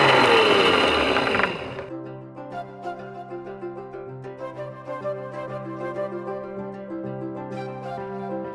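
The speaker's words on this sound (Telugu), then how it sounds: "వీటిని బాగా గ్రైండ్ చేసుకోవాలి." A mixer grinder whirs loudly for under two seconds while grinding a spice powder of cumin, fenugreek, dry ginger and black salt, then cuts off, leaving steady background music without speech.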